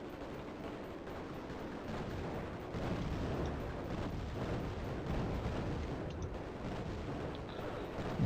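Missile fire and explosions in the 1994 DOS shooter Raptor: Call of the Shadows form a dense, continuous roar of blasts and booms that stays loud and unbroken throughout.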